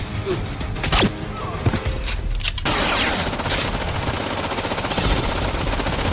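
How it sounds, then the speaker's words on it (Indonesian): Gunfire erupts in a film shootout as a gang storms a nightclub: a few sharp isolated shots, then a dense, loud, continuous barrage of automatic fire with crashing impacts. "para anak buah Victor ini justru menembaki kelab beserta anak buahnya"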